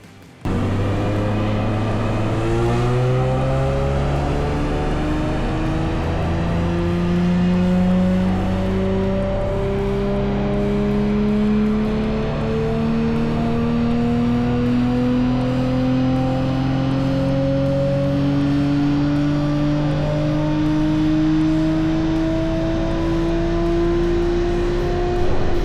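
A tuned Audi RS5 with custom turbos makes a long, continuous pull, its engine note climbing steadily in pitch through the rev range at a loud, sustained level with no voices.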